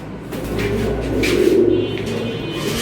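Pigeons cooing in a low, continuous murmur, swelling louder near the middle, with faint background noise throughout.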